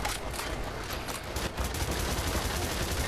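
Dense, continuous gunfire rattles nonstop from a weapon in the video game E.Y.E: Divine Cybermancy, loud and close, filling the whole stretch with rapid overlapping shots and no talking.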